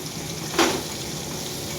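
Young jackfruit curry frying in a pan, a steady low sizzle throughout with one brief louder burst of sputtering partway through, close and alone.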